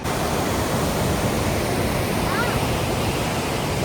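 Strong Kaveri river current at Mekedatu, a loud and constant broadband rush of water very near, unbroken throughout.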